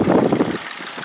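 A Volvo S60 demolition derby car's engine running rough, a close, loud uneven idle with a throbbing low rumble that drops off after about half a second to a quieter rattle.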